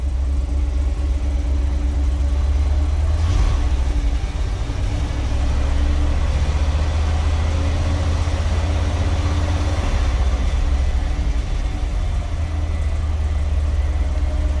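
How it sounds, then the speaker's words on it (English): The air compressor on a 1961 Dodge C800 ramp truck runs over the idling engine, a loud, steady low rumble and drone that stays constant throughout, close by with no talk. "Air compressor kicked on."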